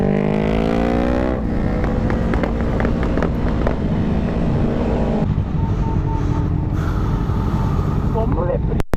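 A motorcycle exhaust revs hard and loud during wheelie practice, the engine note rising and falling through sustained throttle blips with wind noise on the microphone.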